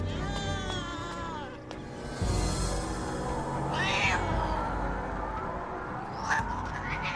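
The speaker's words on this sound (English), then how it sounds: "the cat might be evil, but leave her alone" A cat meows in a scene from an episode of the TV series Charmed, the cries rising and falling over background sound and other noises, fairly close and clear.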